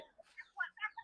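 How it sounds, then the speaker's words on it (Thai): Bantam chickens clucking on a rural farm, with several short, separate calls in an uneven rhythm, fairly close and clear over a quiet background. "พุ้นละไก่แจ้พี่น้องไก่แจ้หลายหลาย"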